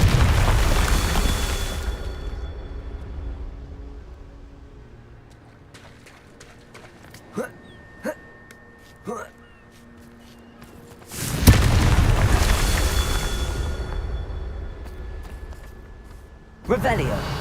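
Fiery Confringo spell blasts go off in Hogwarts Legacy, loud whooshing booms at the start and again near the end with sharp thuds and impacts between them, under combat noise and a voice shouting spell names.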